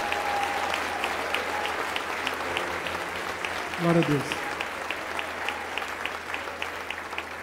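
Church congregation applauding in praise, a steady broad wash of clapping from many hands that swells briefly in the middle, with a voice speaking over it.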